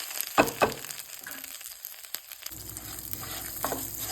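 Curry leaves crackle and spit as they hit hot oil, a few sharp pops up front easing into a softer sizzle, close and fairly quiet.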